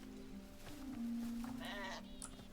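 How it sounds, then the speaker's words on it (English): Sheep bleating in the video game Hytale, a steady bleat holding in the middle of the clip with a few brighter wavering calls after it, moderately loud over soft game ambience. "Sheep."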